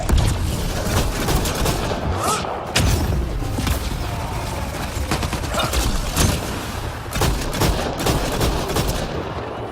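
Dense, loud gunfire and explosions from a firefight in the video game Mass Effect Andromeda, with rapid overlapping shots and thuds filling the whole stretch, close and continuous.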